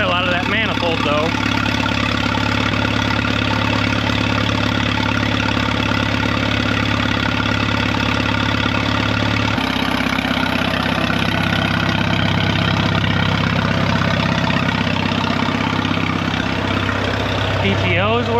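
An old 1936 tractor engine that has sat unused for decades idles steadily and loudly for the whole stretch, burning oil out of its manifold, with a low rumbling drone that shifts slightly partway through.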